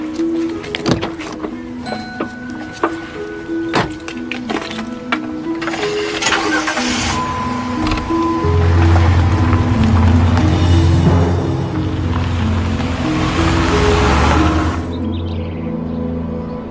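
A car engine cranks and catches after door and mechanism clicks, then idles and pulls away with a steady, fairly loud mid-pitched drone that builds and fades near the end.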